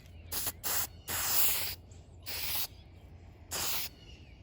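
Gold spray paint is applied to a handmade glide-bait fishing lure in five short, separate hissing bursts of varying length, close and fairly quiet, with no speech.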